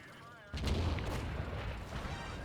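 A single heavy cannon shot from an M103 tank in a tank video game, fired while moving, hits abruptly as a loud boom and rolls on in a long rumbling tail.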